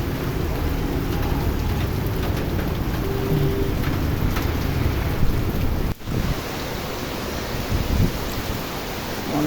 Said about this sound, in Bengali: বৃষ্টি আস্তে আস্তে বাড়তেছে